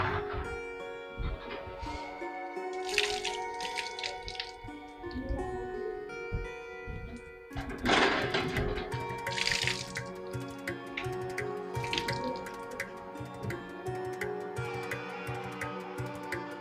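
Water is poured and drips for drinking: irregular splashes and drips close by, with faint tonal sounds in the background and no clear speech.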